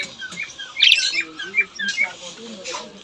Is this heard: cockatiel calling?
yes